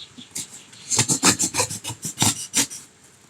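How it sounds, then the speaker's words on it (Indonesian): Blade cutting and rasping through packing material being trimmed to fit a box for a Canon 1300D camera, a run of about ten short scraping strokes in an even rhythm, close and fairly loud with no talking. "Kita potong dulu agar masuk ke dalamnya ya."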